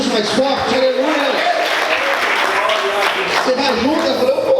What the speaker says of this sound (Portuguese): Aplauda Jesus mais forte, aleluia.